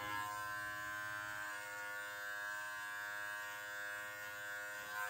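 An electric beard trimmer with a 1 millimeter guard cuts a beard in a steady, close buzz that holds without a break for the whole stretch, with no talking.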